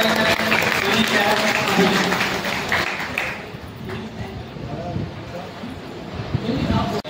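Clapping rises at a BSP party meeting in Rithala, Delhi, a dense crowd patter that thins partway through, with a voice talking over and around it.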